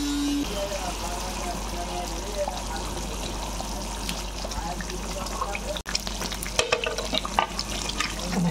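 Rohu fish kalia sizzles steadily in oil in a pan, a constant crackling fry with occasional stirring clinks and a faint voice in the background.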